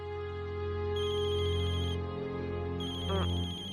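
A phone's electronic ringtone plays in repeating tonal bursts, close and clear, with a short warbling trill near the end.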